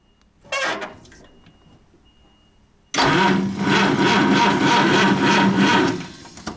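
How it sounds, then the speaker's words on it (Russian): A brief cranking burst, a pause, then a Packard car engine catches and runs loudly with a pulsing rumble before cutting back. "Мы начнем вращение двигателем."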